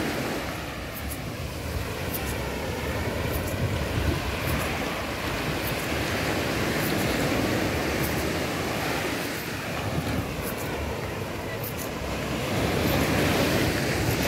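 Surf rolling onto Aqua Beach on the south coast of Barbados, a continuous wash of breaking waves mixed with wind buffeting the microphone, steady and fairly loud with no voices.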